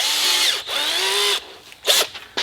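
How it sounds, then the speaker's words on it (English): An old Craftsman power drill bores a hole sized for a 1/4 inch bolt, whining loudly and steadily with rising and falling pitch over two bursts, then a couple of short revving spurts close by. "with this old"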